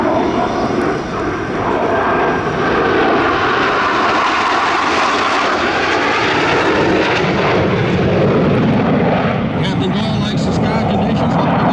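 A loud Blue Angels jet roars steadily down the runway at Pensacola Naval Air Station on its takeoff roll, engine noise filling the scene, with a faint voice underneath.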